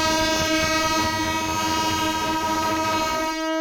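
A train on the Ahilyanagar–Beed railway line, loud and close, with a steady horn tone sounding throughout over the rumble of the cars, cutting off abruptly near the end.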